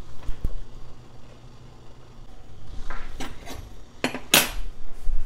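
Boiled pierogi dropped into a pan of butter: a few sharp clatters and clinks of a utensil against the pan, spaced out over a quiet stretch, close by.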